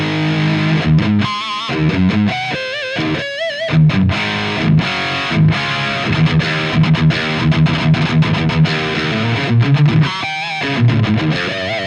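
Overdriven electric guitar played through a modified Marshall 1959 Plexi amp with an overdrive pedal, loud and continuous with driving distorted chords and riffs, no talking.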